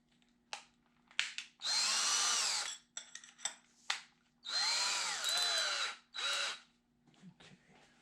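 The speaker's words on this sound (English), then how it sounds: "I think I can just drill straight down without the jig now." A power drill bores straight down into a spalted ash wood slab in several bursts, some long and some short, with a whining motor at close range and quiet gaps between runs.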